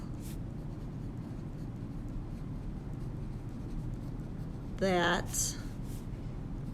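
Marker or chalk writing on a board in a lecture setting, a short squeaky scrawl of a few strokes rising briefly above a steady room hum, with a teacher's voice faint around it.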